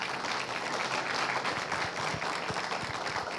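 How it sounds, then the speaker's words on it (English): Audience applauding at a school district employee service awards ceremony in 2022, a steady dense wash of clapping that holds evenly throughout at moderate loudness. "One more round of applause for our board."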